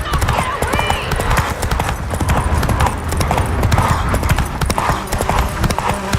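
A horse gallops in The Witcher 3, with fast, loud clip-clopping hoofbeats drumming steadily throughout and game voices talking over it.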